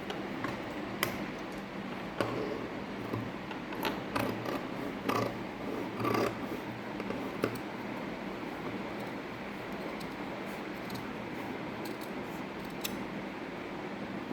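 Hand scissors snip through fabric for a Baahubali-style sleeve, a steady run of close, quiet clicks and crisp cuts, with a few sharper snips standing out, no talking.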